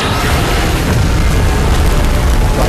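A massive beam blast erupts in a video game monster battle, a loud continuous roaring boom that fills the whole stretch with dense, rumbling energy and no pauses.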